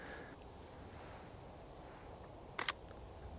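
A single crisp camera shutter click, brief and close, taken outdoors in a frosty, foggy woodland, standing alone against faint quiet ambience.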